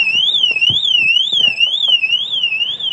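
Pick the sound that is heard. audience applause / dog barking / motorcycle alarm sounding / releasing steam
motorcycle alarm sounding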